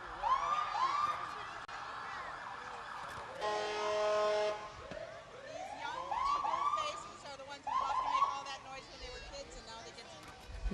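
A St. Croix EMS paramedic ambulance rolls through the 2006 Hudson Booster Days parade, its siren rising and falling in loud wails with a stretch of fast yelping, while people nearby talk over it.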